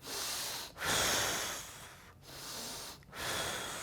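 Heavy, steady breaths in and out while holding a leg raise, close and fairly loud, in long sustained strokes separated by brief pauses.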